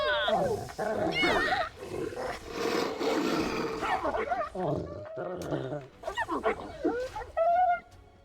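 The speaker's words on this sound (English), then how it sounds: "It's the sound of the wolves dying." Wolves dying in combat in Dragon Age Origins, with snarls, yelps and growling roars in bursts, loud and close, alongside a voice speaking.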